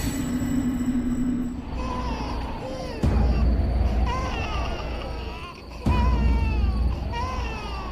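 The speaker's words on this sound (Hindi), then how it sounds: "बच्चे की रोने की आवाज" An infant cries and wails at a steady middle distance through the whole stretch, with rising and falling sobbing tones over a continuous background hiss and a few abrupt level jumps, in an indoor domestic TV drama scene.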